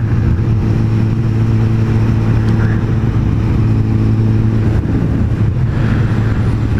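Moped engine droning steadily while riding on a road, with a constant loud low hum and wind rush throughout, and someone talking faintly over it.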